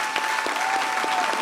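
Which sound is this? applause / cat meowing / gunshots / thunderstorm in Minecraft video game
applause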